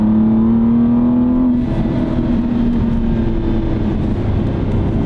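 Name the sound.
Aston Martin V12 Vantage engine revving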